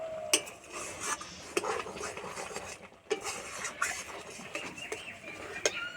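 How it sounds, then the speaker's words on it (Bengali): A metal spatula scrapes and drags around the sides of a kadai as milk thickens into kheer, with repeated scraping strokes and sharp metallic clinks at intervals, close and fairly quiet. "এই যে কড়াইয়ে চারিপাশ লেগে যাচ্ছে, এই খুন্তি করে এইভাবে টেনে টেনে নিতে হবে"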